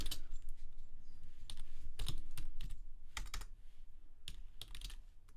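Keys clatter on a computer keyboard while someone types the ls command, producing close, crisp bursts of fast keystrokes with brief pauses between them.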